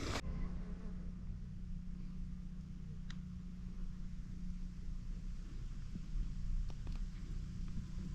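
Black flies buzzing around outdoors on a backpacking trail in central Pennsylvania: a steady, close, droning hum that persists throughout at low volume.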